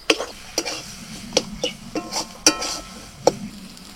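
Fish roe being mixed by hand with gram flour, chopped coriander, chilli and onion in a bowl, soft irregular wet squelches and light clinks in quick bursts, close and moderately loud.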